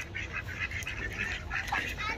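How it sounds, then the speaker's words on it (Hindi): Ducks and geese quack and honk in a park in a continuous, mid-level chorus of calls over a dense outdoor background. "ये सारी बत्तखें घूम रही हैं"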